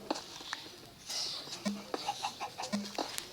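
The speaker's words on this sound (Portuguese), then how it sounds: "Tem uma galinha aqui" A chicken in a video game clucks in short soft bursts amid light pattering footsteps and small clicks, fairly quiet and close.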